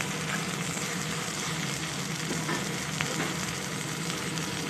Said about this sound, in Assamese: আৰু এইদৰে মই ভাজি লৈছোঁ।